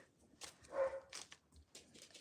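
A dog barks at a UPS delivery in a few short, sharp bursts at moderate distance, with some whimpering mixed in and no talk.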